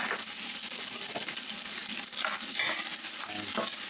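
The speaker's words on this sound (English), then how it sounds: "Then we add the onions." Onions added to a little oil in a pan for Hungarian goulash, giving a steady close sizzle with intermittent stirring scrapes and small clicks, no talking.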